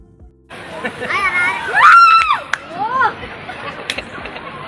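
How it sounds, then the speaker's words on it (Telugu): People shout loudly and echo as they slide through a pipe ride in NTR Garden park in Hyderabad. The voices are drawn-out whooping and wailing, close and resonant, rising and falling over a few seconds amid background crowd noise. "అలా పెద్ద పెద్ద కేకలు వేసుకుంటూ అందరూ వస్తున్నారు"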